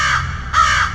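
A voice imitates a crow with two loud, drawn-out nasal caws, close up, in an action film scene.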